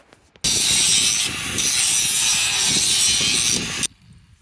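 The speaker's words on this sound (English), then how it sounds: "So I'm gonna grind it up and put on some good welds." An angle grinder grinds off poorly made welds on a steel bale mover at a Kansas ranch. It makes one loud, harsh, continuous burst of about three and a half seconds with no talking, cutting off sharply at both ends.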